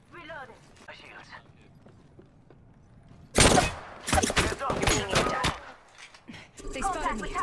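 Gunfire in the Apex Legends battle royale game: a sudden loud burst of rapid shots followed by several more volleys, with quieter game sounds and voices around them.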